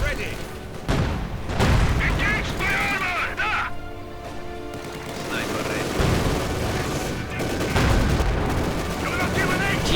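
Artillery booms and gunfire strike a hut during a battle in Company of Heroes 2, with heavy blasts and crackling fire mixed with battle noise, while someone talks over it.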